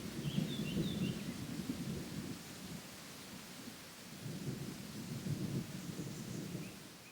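Deep rolling thunder rumbles from a distance through a sunny countryside afternoon in rural Creuse, France, swelling and fading over several seconds with a faint rustling wash of rain or wind beneath and birdsong chirps high above.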